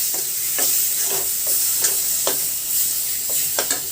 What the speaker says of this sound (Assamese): দুবাৰমান লৰাই দিম।